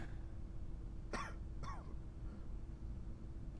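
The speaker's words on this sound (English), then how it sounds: "They look alright, but you are coughing" A person in the video game Quarantine Zone coughs twice in quick succession, short harsh bursts close up over a steady background hum.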